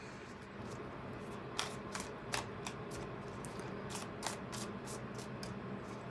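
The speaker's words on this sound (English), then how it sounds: "This deck is like way easier to shuffle too." A tarot card deck shuffles in quick riffling bursts, soft and close, over a quiet background with no talking.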